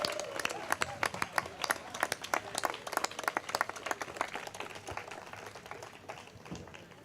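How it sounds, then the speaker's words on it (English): A crowd claps at a Nuns on the Bus national tour gathering in Chicago: dense, steady, moderately loud hand claps with scattered sharper slaps, with some voices mixed in, slowly thinning toward the end. "all of us need to give a big round of applause to Arise Chicago"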